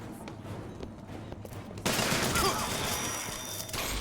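Gunfire from the video game Bioshock Burial at Sea: a burst of rapid shots erupts partway through after a quieter stretch of faint clicks and game ambience, moderately loud with a lingering crackling tail.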